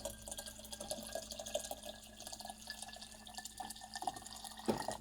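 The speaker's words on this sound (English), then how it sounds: "A little bit more water." Water trickles and splashes into a jar of bread for kvass, a quiet, uneven pour with small gurgles and drips, close by.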